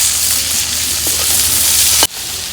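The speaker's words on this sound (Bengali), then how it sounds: "এক পিঠ মাছ ভাজাচ্ছে আর এক পিঠ ভাজা নাকি উল্টে দিই।" Pomfret fish fry in oil in a hot wok, a loud, steady crackling sizzle throughout that drops off sharply near the end as if moved or lifted from the heat.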